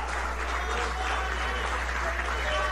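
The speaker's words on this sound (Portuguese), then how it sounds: "Quando você está aplaudindo, não é para mim, é para o Senhor" A church congregation applauds, a steady wash of many hands clapping at an even level throughout, with a low hum underneath.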